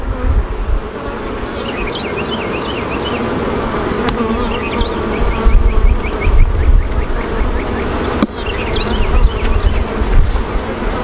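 Honey bees buzz in a dense, continuous drone during an open beehive inspection, close and loud throughout, with faint chirping birdsong now and then in the background.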